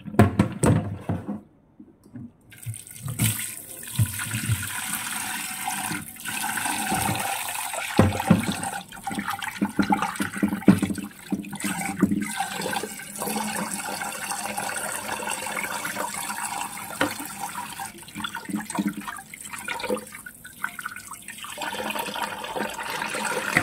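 Tap water runs steadily over raw lean meat being washed for soup, a continuous close splashing wash with shifting surges and brief interruptions from handling.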